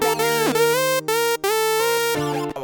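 A bright synth lead from a Xenology sync preset plays a short melodic phrase of several sustained notes with a quick pitch glide, loud and upfront over a low held bass note, with brief gaps between notes.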